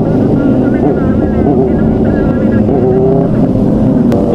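Benelli TNT 600i inline-four motorcycle with an Austin Racing exhaust pulling in second gear, a loud, close, steady engine roar throughout with voices partly audible beneath it.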